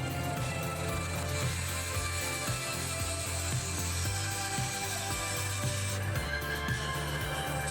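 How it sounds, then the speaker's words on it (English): A drill bores into a wooden Christmas cracker box blank on a woodturning lathe, a steady low mechanical hum with a repeating rhythmic ticking and grinding, moderately close and continuous, with a slight shift in tone near the end. "we're going to drill to depth once again"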